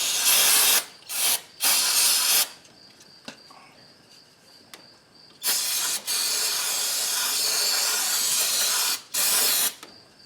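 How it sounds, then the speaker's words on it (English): Aerosol cleaner sprayed onto the throttle body of a Toyota/Lexus 3.3-liter V6, heard as several loud hissing bursts, a few short blasts followed by two longer sustained sprays, with quiet gaps between. "right now I'm going to clean this throttle body"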